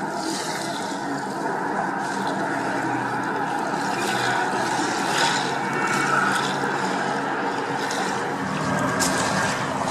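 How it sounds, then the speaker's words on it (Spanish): A motorboat runs steadily on a river at Pasco, Washington, its broad engine and water rush holding at an even, moderately loud level for the whole stretch, with no voices over it. "Una lancha."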